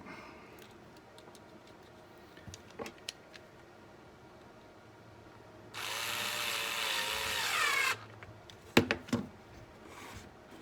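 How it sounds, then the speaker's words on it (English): A small electric screwdriver drives screws into a Dell Latitude 5420 Rugged laptop during cover reassembly: a quiet whirring burst of about two seconds, with faint clicks and taps of handling before and after. "we'll put those screws in real quick"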